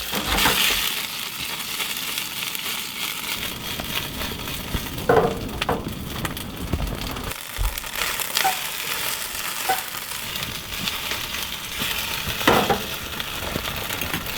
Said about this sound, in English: We're gonna be sauteing the gnocchi just in some olive oil.